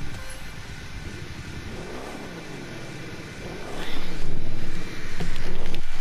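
Chevrolet Corvette C2 engine in The Crew 2, a steady engine drone that swells into louder revving toward the end, with wind-like noise and no talk.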